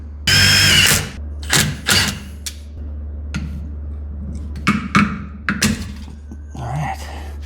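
Self-tapping screw driven into an old pinion seal on a Dana 70 axle of a first-generation Cummins truck: several short, loud power-driver bursts up close, separated by pauses, with clunks and tool handling between them.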